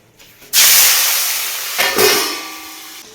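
Tangra fish drop into hot oil in a kadai with a sudden loud, hissing sizzle that swells, dips briefly, then surges again before slowly fading, close and alone.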